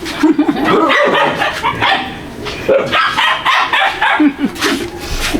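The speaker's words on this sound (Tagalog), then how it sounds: "Ang dami yung aso na eh." Several dogs bark and yip loudly and continuously, close by, with overlapping calls and some voices mixed in.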